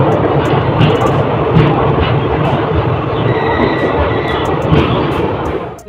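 An Intercity Express hauled by a WAP4 electric locomotive arrives at Katihar Junction, a steady loud broadband rumble of the moving train running throughout, with faint station voices underneath.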